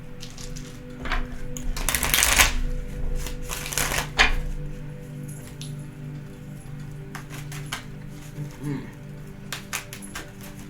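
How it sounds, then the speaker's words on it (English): Tarot cards are riffled and shuffled in quick bursts, crisp flurries of flapping and clicking separated by short quiet gaps. "I may shuffle through these pretty fast"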